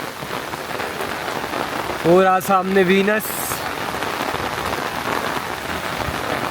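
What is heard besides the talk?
heavy monsoon rain in Manali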